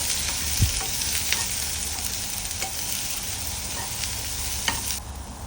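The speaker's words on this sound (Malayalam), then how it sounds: "പിന്നെ പച്ചക്കായ അതിലേക്ക് ഇടുക എന്നിട്ട് ഒരു അഞ്ച് മിനിറ്റ് അത് സോട്ട് ചെയ്തെടുക്കുക" Green plantain and dried red chillies sauté in a pan with a steady, close sizzle, punctuated by a few sharp clicks and scrapes of stirring before the frying noise drops off near the end.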